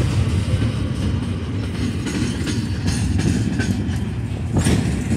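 A CSX freight train rolls past close by, a steady loud rumble of rail cars with faint clicking wheels and occasional metallic squeaks throughout, no talking.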